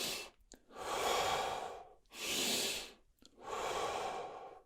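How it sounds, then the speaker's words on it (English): Slow, deep breathing during a guided meditation exercise: three long, close, airy breaths, inhale and exhale alternating with brief pauses between them. "Inhale, exhale, inhale, exhale."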